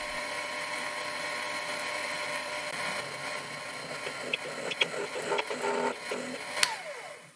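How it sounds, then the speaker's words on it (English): Twist drill boring holes in a workpiece on a Proxxon PD 250/e lathe, making a custom die: a steady motor whine throughout, with sharper cutting squeals and scrapes building toward the end, close and moderately loud. "For the first pass drilling the holes,"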